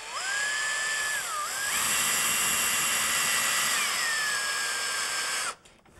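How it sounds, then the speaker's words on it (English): A power drill with a hex head bit whines steadily as it drives, its pitch dipping and rising under load, then cuts off abruptly near the end. "so I got a hex head bit in my drill."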